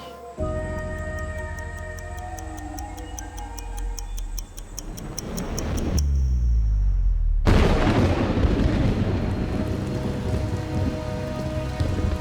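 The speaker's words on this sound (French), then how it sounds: "Elle est même très difficile car il pleut fort." Heavy rain falls at night on an outdoor survival camp: a dense, loud hiss that becomes much stronger after the midpoint and keeps going, with a steady ticking, tonal backdrop early on.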